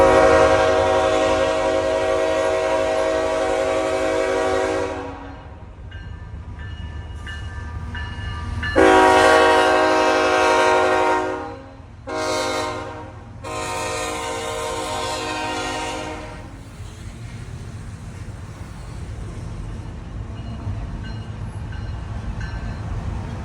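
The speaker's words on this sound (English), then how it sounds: "I was soon well ahead of the train." A train rumbles past in Greenville, South Carolina, with long, loud blasts of its horn that start and stop repeatedly, then the horn fades, leaving a low rolling rumble of wheels.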